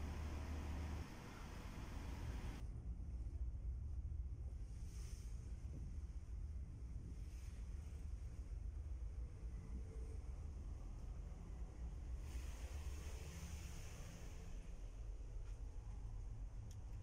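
A ferry runs at sea between Bakauheni and Merak ports in calm, clear weather, its steady engine rumble mixing with continuous wave wash and wind buffeting across the whole stretch, with no talk.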